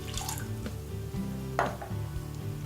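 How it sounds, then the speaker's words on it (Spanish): Water pours into a pot for making chai, with spice seeds, dates, tea and ginger close at hand, a quiet, close splash and trickle over a low, steady hum. "Ponemos el agua"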